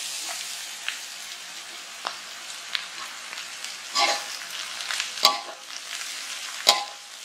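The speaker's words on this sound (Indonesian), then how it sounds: "Aduk sampai layu." Shredded cabbage and carrots stir-fried with chili in a pan, a soft continuous sizzle with scattered scraping and clacks of the spatula as the vegetables are tossed.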